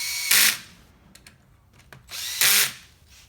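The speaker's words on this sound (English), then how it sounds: "So you can hear the clutch actually release when it gets snug." A power tool tightens the bolts of a billet clutch pressure plate in two loud, close whirring bursts, each ending abruptly as the clutch releases once snug, with a quiet pause between them.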